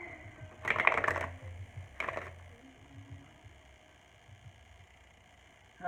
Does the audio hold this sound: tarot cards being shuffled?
yes